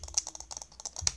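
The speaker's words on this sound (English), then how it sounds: "jitter clicking, you're supposed to do like this" Rapid jitter clicking on a computer mouse for Minecraft, a fast, irregular burst of sharp plastic clicks close to the mic with no talk.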